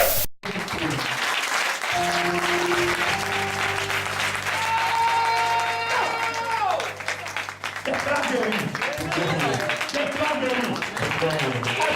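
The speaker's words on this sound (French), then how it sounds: "Put your hands together for the Lord." Congregation at a church service applauding steadily throughout, a dense wash of clapping under loud music with sustained tones and voices calling over it.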